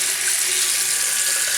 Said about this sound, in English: So water's running.